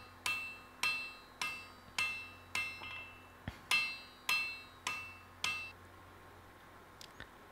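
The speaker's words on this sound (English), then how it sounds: "So basically the power hammer is to reduce the work by as much as possible" A power hammer pounds an iron axe-hammer handle during forging, giving about nine sharp ringing blows at a steady rhythm, each fading quickly, followed by a few faint taps.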